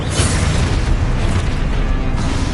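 Confringo spell explosions in Hogwarts Legacy: a dense, loud run of booming blasts and bursts, rumbling without pause.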